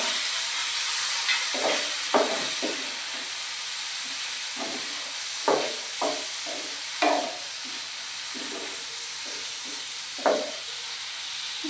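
Tomatoes hit a hot pan for a Maharashtrian tomato chutney, giving a steady hiss and sizzle with scattered crackles and stirring scrapes throughout, fairly close and without talk.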